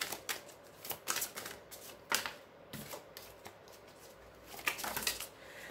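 A deck of oracle cards is shuffled and cut by hand, making close, rapid riffling and flapping bursts in uneven runs with brief pauses and no talking.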